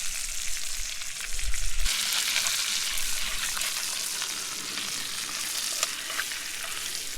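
Trout frying in butter in a pan at a campsite gives a steady, close sizzle and crackle that stays loud throughout, with no voices.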